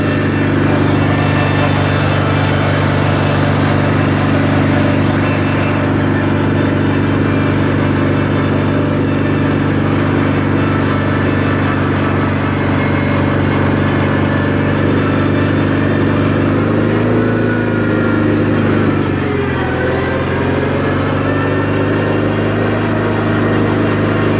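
Cub Cadet 1811 lawn tractor engine running steadily at a loud, close idle for the full length, with a brief shift in tone partway through and no talk.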